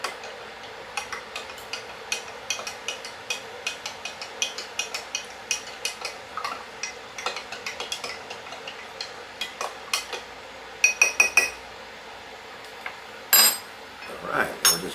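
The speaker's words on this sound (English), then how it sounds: "Let's mix that up, make a nice little slurry out of that." A spoon stirs a cornstarch slurry in a pot with quick, repeated metallic clinks and scrapes against the sides, steady and close, ending in a few louder knocks.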